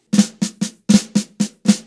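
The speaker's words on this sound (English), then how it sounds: "and then you add a flam in between each downbeat." Sharp drum hits in a quick triplet pattern, with some strokes doubled into flams; close, dry and unaccompanied.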